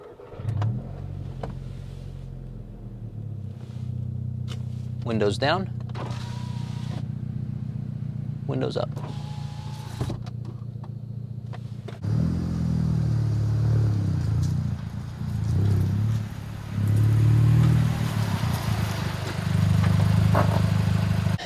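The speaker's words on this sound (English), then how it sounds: "I'm going to start my car, which has a modified exhaust." VW Golf MK5 GTI with a modified exhaust starting and idling with a deep steady drone, then louder and rawer with short revs once the windows go down; someone talks over it throughout.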